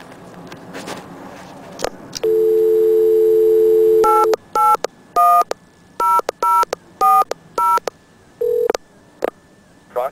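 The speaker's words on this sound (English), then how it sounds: "now we're gonna dial another test number. This is the Proctor test set number" A telephone line dialing a Proctor test set number: a steady dial tone for about two seconds, then a quick run of eight distinct DTMF keypad beeps in an uneven rhythm, loud and clear, with a few faint clicks before and after.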